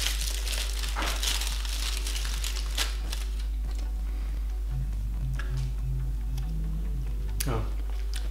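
Aluminium foil wrapped around vegan garlic bread crinkles and crackles in short bursts close by, with quiet talking and a steady low hum underneath.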